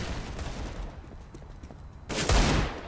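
Gunfire in a Counter-Strike esports match, a dense burst of shots with a louder, closer volley near the end, mixed with game background noise.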